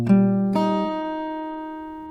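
An acoustic guitar plays a pattern. Two plucked attacks ring out into sustained, slowly fading strings, close and alone.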